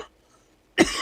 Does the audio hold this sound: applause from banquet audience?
no